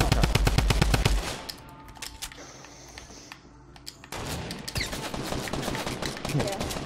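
Drum gun in Fortnite firing rapid, sharp bursts of shots, a dense burst at the start and more fire after a brief lull, with voices talking over it.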